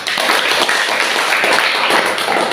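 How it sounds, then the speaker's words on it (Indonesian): A class claps hands together at the end of a lesson: loud, dense, continuous clapping from many people close by in a classroom, with a few sharper claps standing out. "Oke, tepuk tangan untuk kita semua."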